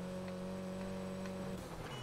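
A BMW race car engine in the Need for Speed Heat video game, holding a steady, even tone for about two seconds before shifting slightly lower.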